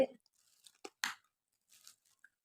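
Someone bites into a hard homemade Diwali cake, giving a few short, sharp crunches spaced apart in near silence, close to the microphone, with a small voice sound at the very start.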